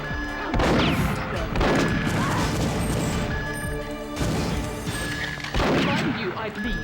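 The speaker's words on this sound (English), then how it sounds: "There's someone in here with a shotgun." Shotgun blasts in the video game Perfect Dark boom out in about four loud, spaced bursts, each decaying into crashing noise over a dense, continuous game background.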